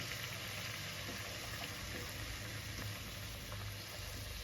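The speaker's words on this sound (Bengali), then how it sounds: "এইভাবে একটু একটু করে কড়াইশুটির কচুরি ভেজে নেওয়া হচ্ছে" Pea-stuffed kachori deep-frying in a pan of hot oil, a steady close bubbling sizzle with a broad, even hiss that holds constant throughout.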